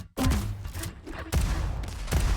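Grenades go off in a video game duel, landing as three heavy thumping blasts close together, each one loud and booming, with game noise between them.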